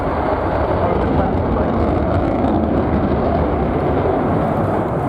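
A stealth military jet at the RIAT 2024 airshow passes overhead trailing vapour, producing a loud, continuous broadband roar that holds steady throughout.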